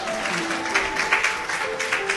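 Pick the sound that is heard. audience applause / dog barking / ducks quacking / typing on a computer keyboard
audience applause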